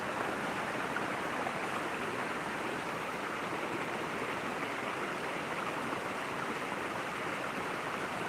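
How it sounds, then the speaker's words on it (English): Water flowing in a stream near Petoskey, Michigan, in autumn: a steady, close, even rush and babble that holds unchanged throughout with no voices over it. "Don't you love the sound of the water when I shut up?"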